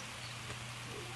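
Steady rain falling outdoors at an animal sanctuary, a soft continuous hiss with no distinct drops, faint and unbroken throughout.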